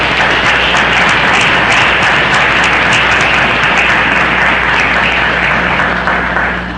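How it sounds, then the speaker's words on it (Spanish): Sustained, loud audience applause fills a lecture hall at an evening keynote talk, steady dense clapping without a break and no voices on top, tapering slightly at the very end. "por lo tanto le brindemos también otro caluroso aplauso."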